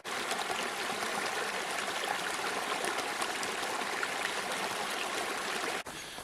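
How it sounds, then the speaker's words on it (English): A steady broadband rush of water flowing in a stream, continuous and fairly close, with no voices, cutting off abruptly near the end. "I can definitely hear water. So water's flowing probably off this big hill here."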